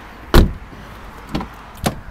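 A used VW car's remote trunk release pops with one sharp, close click-thump, followed by two fainter clicks about a second and half a second apart, in a quiet setting.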